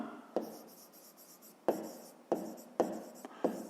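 A pen writing in a school notebook, scratching softly at close range with a few sharp taps as strokes begin, sparse and quiet with no voices.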